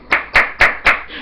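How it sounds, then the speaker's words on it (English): Four sharp hand claps at a slow, even pace, close and fairly loud, with no other sound between them, from an audience member applauding. "And you sit there and applaud for them?"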